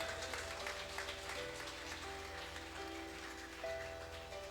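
A church congregation applauds in a soft, continuous wash of clapping, distant and even, with no speech over it.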